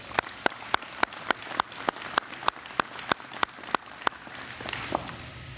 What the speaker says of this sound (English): let's give these two a big round of applause